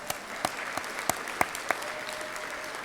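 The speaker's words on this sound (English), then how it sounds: "Let's give Bill a round of applause" A Rotary Club meeting audience applauds a committee member: steady, fairly dense clapping from a modest indoor crowd with a few sharp nearby claps standing out, no talking.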